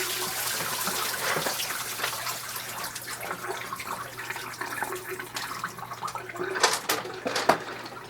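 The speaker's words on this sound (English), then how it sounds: "pour the water off" Water poured off rough stones in a tumbler barrel, a steady low splashing stream that stays fairly faint and continuous throughout.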